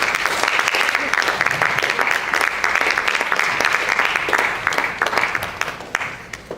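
A church congregation applauds with sustained, dense clapping that fills the room, close and loud, thinning slightly near the end, with voices mixed in beneath it.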